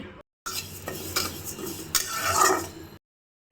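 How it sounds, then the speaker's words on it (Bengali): Mung dal frying on a stove, stirred with a utensil that scrapes and clinks against the pan in short bursts over a soft sizzle, close and fairly quiet, with brief silent gaps at the start and end. "এখানে আমি চুলাতে মুগের ডালগুলোকে ভেজে নিচ্ছি"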